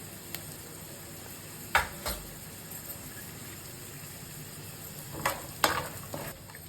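Cumin and mustard seeds sizzling in hot oil, a low, steady frying hiss with a few sharp pops and scrapes of stirring scattered through, fairly faint and with no one speaking.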